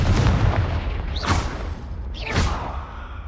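A fiery blast from the Confringo spell in the Hogwarts Legacy video game booms twice: two swooshing, explosive bursts about a second apart over a constant low rumble, loud and close, with no one talking.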